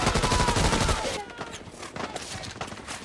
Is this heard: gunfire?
yes